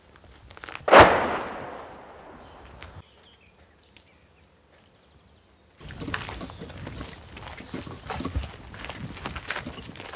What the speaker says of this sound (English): That's Ukrop artillery inside the 100-kilometer zone, shooting at us.